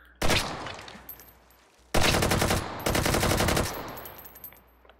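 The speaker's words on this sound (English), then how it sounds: "Let's go back to full auto. Let's take out these watermelons." Full-auto gunfire in the Hot Dogs, Horseshoes & Hand Grenades VR game, shooting at watermelons: three loud sustained bursts of rapid shots, each about a second long, separated by brief pauses, with no talking.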